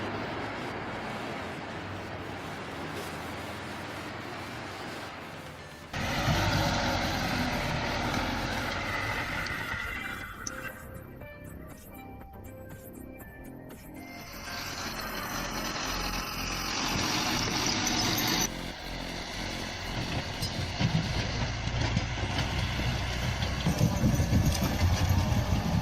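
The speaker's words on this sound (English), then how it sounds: "an overloaded logging truck hauls a huge unstable stack of timber through a snowy forest road" A heavily overloaded logging truck hauls an unstable stack of timber along a snowy forest road, its engine droning steadily and growing louder in surges, with no one speaking.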